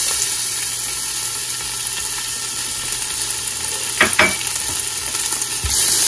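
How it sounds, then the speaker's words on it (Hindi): Raisins fry in a pan for Afghani mutton pulao, making a steady close sizzle with a faint hum beneath and a few brief clanks of stirring near the end, no speech. "अब हम अपनी ये किशमिश फ्राई करेंगे इसमें।"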